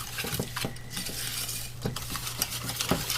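Brown sugar cooking in a pan for a brown sauce, stirred with a utensil that gives repeated scrapes and clinks against the pan over a steady low hum, with no talk.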